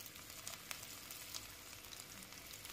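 Onions sautéing in hot ghee in a pan, a soft continuous sizzle with occasional small pops and crackles, quiet and close with no talking.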